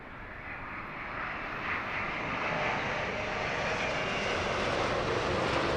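A British Airways Airbus A330neo jet arriving at London Heathrow on approach, its engines a steady, broadband roar that grows slightly louder over the clip, with no talk.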